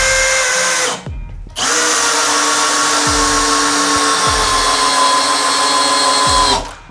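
A Bosch GSB 185-LI cordless drill driver drives screws into wood, its loud steady motor whine running long, cutting out briefly, then resuming, with faint clicks as screws seat.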